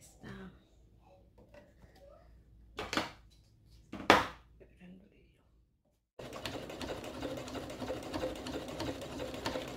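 A sewing machine runs steadily through thick fabric for a chef's hat, a continuous close mechanical whir after a few separate clicks and handling knocks, the motor kept at moderate speed.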